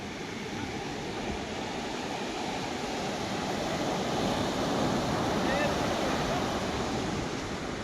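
Sea waves breaking on the beach at Dwarka, a steady broad wash of surf with wind noise on the microphone, continuous and fairly loud throughout.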